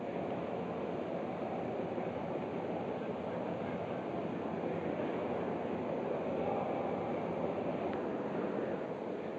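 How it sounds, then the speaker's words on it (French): A steady, loud rumbling roar with a rushing, windy quality fills the whole stretch as a Montreal Metro train arrives at Berri-de-Montigny station, with no clear pauses. "le premier wagon va faire son entrée dans la station Berry-des-Montigny"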